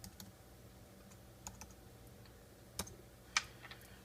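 A computer keyboard is tapped with a few quiet, sparse keystrokes and clicks in a hushed room, one sharper click standing out near the end, with no talk.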